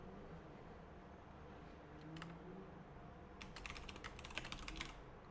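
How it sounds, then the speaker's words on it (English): Quick bursts of typing on a computer keyboard. A short cluster of clicks comes first, then a faster run of keystrokes over a faint background hiss, with no talk. "Nice typing."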